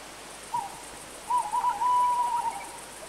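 An owl hoots in quiet night air, one short call followed by a longer drawn-out hoot, clear and moderately close with no other sounds.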